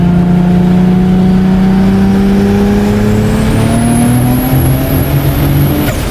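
A tuned Corvette Z06 engine revs hard under load, a loud, rising drone that begins to break up and sputter near the top before easing off. No voices are heard.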